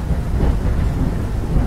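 Heavy rain pours down with a deep rumble of thunder, a dense steady roar filling the whole short stretch with no voices.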